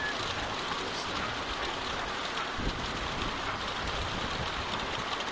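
Steady rain pours down in The Walking Dead video game, a constant dense hiss of drops on surfaces with a faint low rumble beneath, no voices present.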